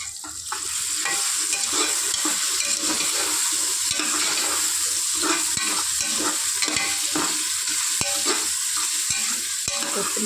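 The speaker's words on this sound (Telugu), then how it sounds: "దీన్ని కూడా బాగా కలుపుకోవాలి." Potato, beans and other vegetables for veg biryani are stirred in a pressure cooker, giving a continuous close frying sizzle with rhythmic scraping strokes of the spoon. Nobody speaks.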